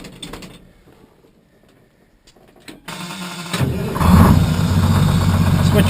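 A 1959 GMC Cannonball truck's Detroit diesel engine cranks after a quiet stretch, catches, and settles into a loud, steady rumbling idle.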